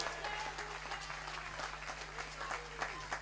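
Audience applause at a live concert honoring a musician, welcoming a band member. Steady, fairly faint clapping from a crowd carries through all three seconds with no voices over it.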